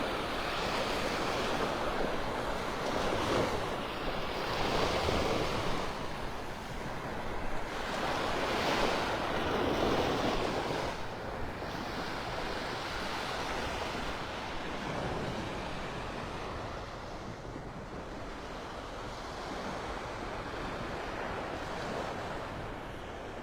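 Ocean surf rolls onto the beach at Delnor-Wiggins in North Naples, Florida, with broad swelling wave washes rising and falling every few seconds under steady wind buffeting the microphone.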